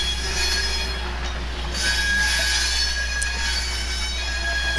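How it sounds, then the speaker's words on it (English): The wheels of a Conrail coal train squeal against the track in high, sustained metallic tones over a steady loud rumble of rolling coal cars. "The train will now head back towards the main line"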